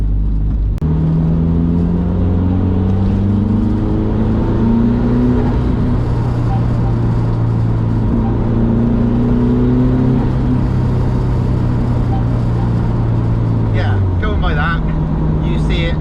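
A turbocharged car revving on a boost test without a blow-off valve, engine drone rising and falling under steady talk with a fluttering compressor surge as the throttle closes near the end.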